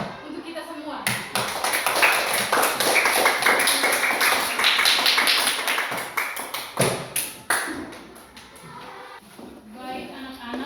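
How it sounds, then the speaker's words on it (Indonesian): Teacher and primary-school pupils applaud together in a classroom, a loud, dense run of claps lasting most of several seconds with a brief dip, then scattered claps and children's voices as it trails off. "Mari kita beri aplaus untuk kita semua."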